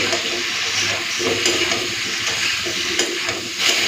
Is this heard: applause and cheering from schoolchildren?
no